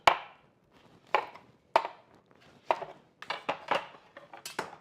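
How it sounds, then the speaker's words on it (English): Knife slicing onions on a cutting board in a home kitchen: sharp, separate chops in an uneven rhythm, about ten strikes, close and clear with quiet gaps between them. "now I need to get me some onions sliced"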